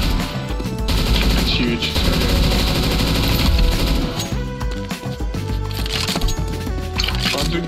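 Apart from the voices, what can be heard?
machine gun fire in video game CS2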